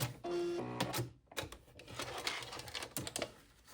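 A sewing machine stitches a boxy fabric bag in a few quick mechanical bursts, with brief pauses between runs, close by and fairly loud.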